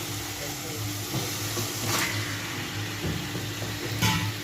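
Chicken frying in a pan of spiced masala produces a steady, dense sizzling hiss throughout, with a few faint stirring knocks and no talk.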